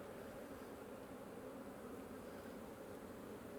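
Honeybees hum in a continuous, even drone as a hive is split and bees are shaken into a super. The buzz holds steady throughout with no speech.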